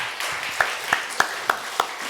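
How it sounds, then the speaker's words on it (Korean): A church congregation applauding, with a soft bed of clapping and a handful of sharper claps landing in an even, steady beat, heard at a moderate distance without talk over it. "하나님께 영광의 박수 돌려드리겠습니다."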